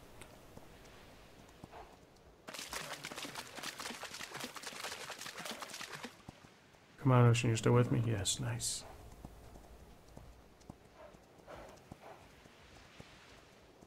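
Rapid rhythmic hoofbeats of a galloping horse rush by in the video game ARK: Survival Evolved, followed by a brief burst of louder clopping while a person talks.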